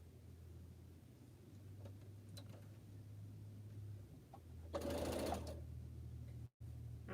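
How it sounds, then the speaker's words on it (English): A sewing machine stitches quilt pineapple blocks, a faint, steady low motor whir running under quiet room noise, with a brief louder burst of noise partway through and a short dropout near the end. "I'm so far behind because I'm sewing"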